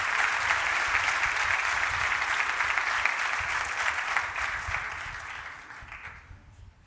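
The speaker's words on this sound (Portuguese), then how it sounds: "Pode aplaudir Ele, Jesus." Church audience applauding during a sermon, a sustained wash of clapping that holds steady for several seconds, then thins out and fades toward the end.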